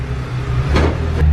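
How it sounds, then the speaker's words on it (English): An abandoned Ferrari F355, sitting unused for about four years, rolls under its own power with a low, rumbling engine idle close by, a brief steady drone with a faint knock. "The first time this car has rolled under its own power in like 4 years."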